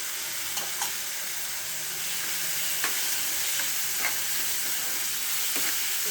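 Two tomatoes fry in a pan for a chickpea curry, giving a steady loud sizzle with faint scrapes as they are stirred, and no talking.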